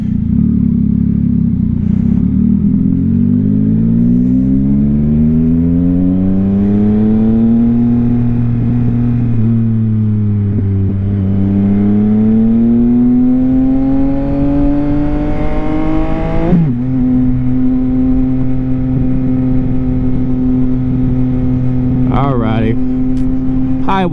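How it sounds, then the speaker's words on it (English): A 2022 Yamaha XSR900 fitted with a Kelpi Custom Moto Shorty exhaust cruises on the highway. The engine drones loud and steady, its pitch rising and dipping through gear changes, with heavy wind rush throughout. "Highway test with the bike."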